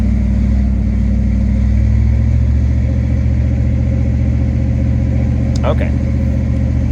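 A car engine runs steadily up close with its power steering pump circulating during steering box repair, a loud low hum and drone throughout, with a brief voice near the end.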